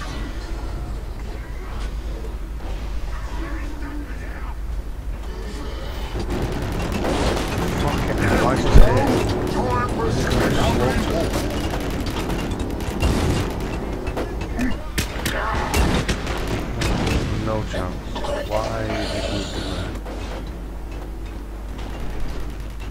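Gunfire in the video game Warhammer 40000: Eternal Crusade, dense bursts of weapon shots and mechanical clatter running continuously with a sharp loud crack near the middle.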